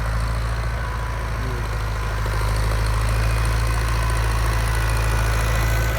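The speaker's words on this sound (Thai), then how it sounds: "หกล้อกำลังเข้ามานั่นนะเห็นไหม" A heavy six-wheel diesel truck engine rumbles steadily with a low throbbing idle, fairly close and growing slightly louder as it approaches, with no talking.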